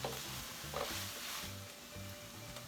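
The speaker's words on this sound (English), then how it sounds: "And then I'm going to stir this around once again." Mushroom pot pie filling with portobello sizzles quietly in a pan while a spoon stirs it, leaving a low, continuous frying hiss broken by repeated soft scraping strokes.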